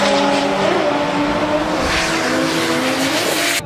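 A race car with a 2JZ engine runs around Sodegaura-style circuit, its loud, sustained engine drone shifting in pitch as it passes, with tire squeal audible and a sudden cutoff at the end.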